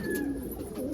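Pigeons coo in a loft, a soft low throaty coo close by with a second bird faintly overlapping, brief and alone.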